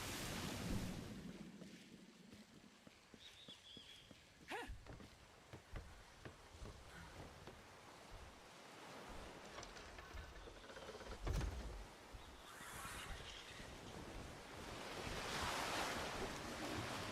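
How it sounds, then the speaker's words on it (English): Wind blowing across an open outdoor scene in a survival crafting video game, a faint continuous gusting rush with surf-like swells and occasional sharp clicks, with no talking. "More wind."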